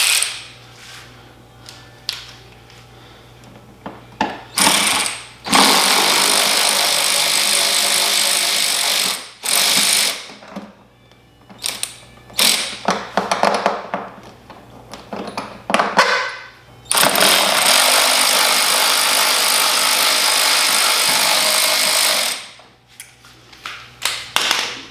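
A power driver with a T27 Torx bit spins out screws from a Harley-Davidson Street Glide fairing in repeated bursts of several seconds each. Sharp clicks and handling clatter fill the gaps between runs.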